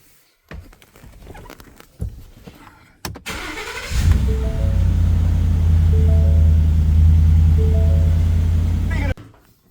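A Ford F-150 truck's 5.0L V8 engine cranks with clicks and rattles, then catches and settles into a loud, deep, steady idle close by, a few voices faintly underneath.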